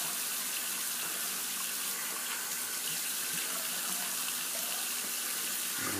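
Tap water runs steadily into a sink during rinsing in a straight razor shave, a constant close hiss and splash that continues alone without a break.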